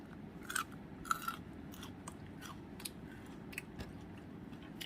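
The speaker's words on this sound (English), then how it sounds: "I like to chew them." Someone chewing fibrous kale stems fresh from the garden, giving soft, irregular close-up crunching and biting sounds over several seconds, with no talking.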